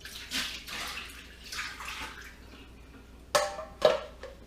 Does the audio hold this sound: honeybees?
no